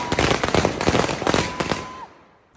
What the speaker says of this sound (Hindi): इसमें है कि थोड़े बहुत बुलेट बम और पटाखों की लड़ियां